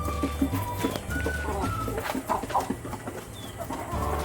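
Six-month-old heritage chickens clucking and calling inside a small coop, several birds close by with overlapping clucks and short squawks throughout.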